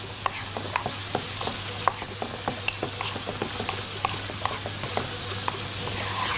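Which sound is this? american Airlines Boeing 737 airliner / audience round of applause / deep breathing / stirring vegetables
stirring vegetables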